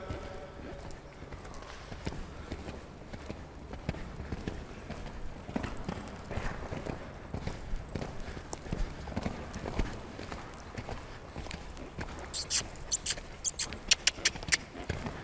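Hooves of a horse cantering in a riding arena thud in a steady three-beat rhythm, moderately close, with faint talk now and then.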